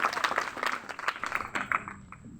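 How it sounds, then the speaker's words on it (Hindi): Scattered applause from a gathering at a school handwashing day event at an inter college, a brief burst of claps with a voice talking over it, trailing off quickly. "जोरदार ताली बजा करके"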